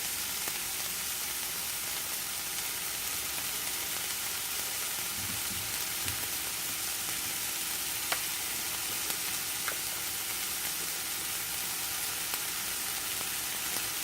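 An omelet frying in a pan gives a steady, fairly quiet sizzle that runs without a break, with a few faint clinks and small crackles and no talking.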